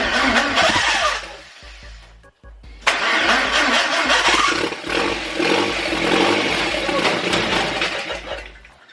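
A project car's engine cranks on a freshly fitted battery, catches, and roars loud and close. It dips briefly and then revs back up to a sustained, rough running roar.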